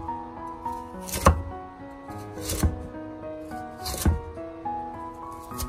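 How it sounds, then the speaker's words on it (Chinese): A knife dices radish on a cutting board in a home kitchen, giving sharp wooden knocks in quick repeated bursts, three heavier chops standing out at steady intervals over softer cutting between. "最后切成萝卜丁"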